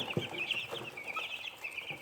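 Cornish Cross meat chickens, young birds being raised for meat, cluck and chirp steadily in a brooder, a busy flock of soft, overlapping calls with no one talking.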